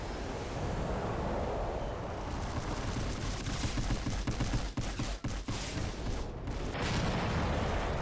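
Rapid missile salvos fired in the flying combat game Strike Vector, a dense continuous roar of launches and blasts that carries through the whole stretch with no voices over it.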